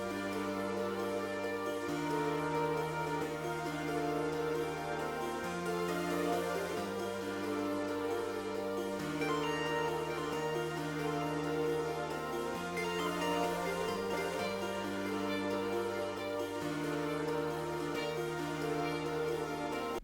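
A hip-hop beat melody with strings plays in full, its layered tones moving through stepped low root notes in a steady repeating loop, clear and unbroken with no voice.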